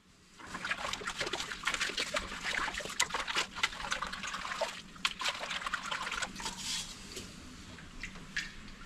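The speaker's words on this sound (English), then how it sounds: "a quick scrub with hot soapy water is the final stage" Raku-fired pottery scrubbed by hand with hot soapy water: close, irregular wet swishing, squelching and trickling, with brief splashy bursts.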